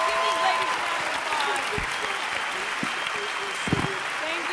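Audience applause at a DC in D.C. 2018 event, a dense and steady wash of clapping that fills the whole stretch with a few whoops rising through it.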